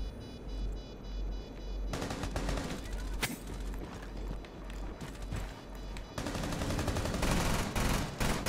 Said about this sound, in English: I got shot in the back